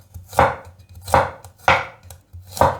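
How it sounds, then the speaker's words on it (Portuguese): Garlic cloves are sliced into thin rounds with a knife, four crisp, evenly spaced chops striking a cutting board up close, with no talk. "2 dentes de alho. Vou cortar assim somente em rodelinhas."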